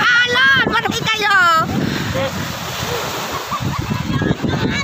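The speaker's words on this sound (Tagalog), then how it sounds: "Laki na ng alon!" Ocean surf at a beach in Sariaya, Quezon rushes and crashes in a continuous wash, loud and close, with a voice shouting excitedly at the start over wind noise.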